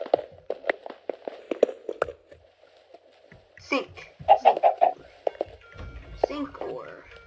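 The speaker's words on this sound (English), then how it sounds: "Chicken, shut up." A chicken in the video game Minecraft clucks in quick repeated bursts, rapid at first and then in a second cluster, with a person talking over and between the clucks.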